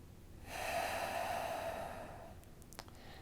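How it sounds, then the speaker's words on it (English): A single long, deep breath drawn close and audibly through the nose during a yoga stretch, steady for about two seconds before fading out, followed by a few faint clicks. "One more deep breath."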